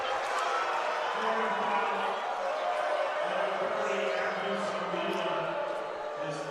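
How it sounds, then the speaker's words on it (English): A college basketball crowd at a Fordham versus Holy Cross men's game reacts to a foul call with a sustained, dense roar of voices and boos that stays loud and steady throughout, with no single voice standing out. "You can hear the reaction from the crowd."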